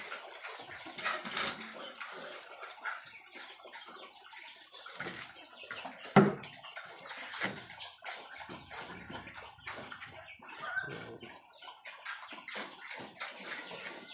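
Water poured onto chicken feed mixed with rice husks, a faint splashing and trickling with scattered rustles and one sharper splash midway, quiet and close, with farm birds faintly audible around it and no talk.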